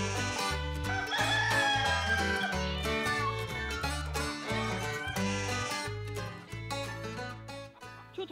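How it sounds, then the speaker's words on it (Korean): Free-ranging chickens on a farm in Jindo, South Jeolla, crow and cluck over a steady, rhythmic musical backing, with the calls rising above the repeating low notes and no speech. "저 닭들이 뭐 하는 거예요?"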